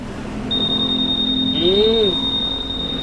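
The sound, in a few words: motorcycle alarm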